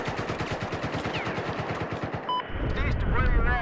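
Machine gun fire in a video game rattles in a fast, steady burst of evenly spaced rounds for over two seconds, then cuts off as other game sounds and a voice take over.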